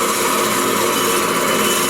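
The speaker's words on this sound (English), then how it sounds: "Just cutting through the glue joint." Tool cutting through a glue joint on a spalted pecan vase spinning on a wood lathe, a continuous, loud whirring hiss with no pauses.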